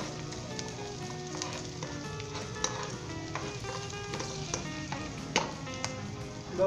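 Fried onions are stirred into hot oil with green chilies and ginger in a pan, giving a steady close sizzle with scattered spoon scrapes and clinks, and no voices.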